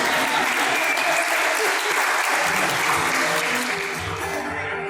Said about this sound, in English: We need to make sure we give them a round of applause